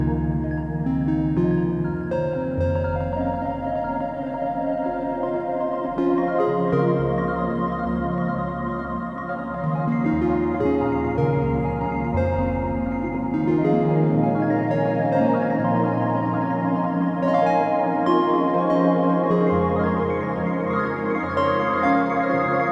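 Pitch-shifted lofi harp patch on a Korg Multipoly through a Hologram pedal's reverb, a sustained wash of layered plucked tones and shifting chords blurring into long, shimmering tails, with no talking.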